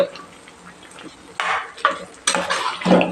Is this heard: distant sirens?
no